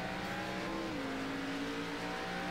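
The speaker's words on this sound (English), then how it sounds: "14, really revving it up, trying to get past the 6" A race car engine revs hard and steadily in an ARCA race at Twin Ring Motegi in iRacing, a loud continuous drone whose pitch dips once, then holds high through the whole moment.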